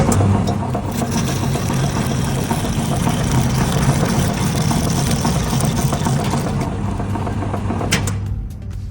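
An STvega VML H150 peeling machine runs while peeling a pumpkin, giving a loud, steady mechanical whir and rumble that continues almost the whole time before easing slightly at the very end.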